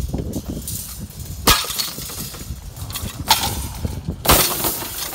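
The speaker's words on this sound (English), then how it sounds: "Glass is very tricky." Scrap glass repeatedly breaking and clinking nearby, with three sharp smashing impacts spaced a second or two apart over a steady rattle of shards, close and clear with no voices.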